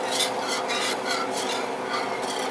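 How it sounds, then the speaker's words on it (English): A spoon or spatula scrapes and stirs food around a pan during Chinese home cooking, a steady close rasping and clinking that continues without pause and with no voices. "Stir that in."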